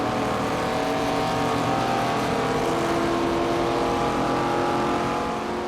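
NASCAR 25 race car engine in the video game, a loud continuous roar holding a steady high drone throughout, with no talk over it.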